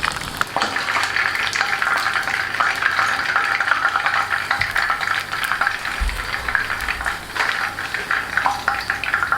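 Lapu-lapu fish frying in oil in a pan, a steady crackling sizzle with small pops that runs continuously at close range.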